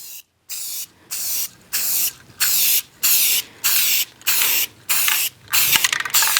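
An aerosol spray can coats a plastic lick tub being made into a patio planter outdoors, firing close and loud in about nine even bursts of hissing spray with short pauses between them, with no voices.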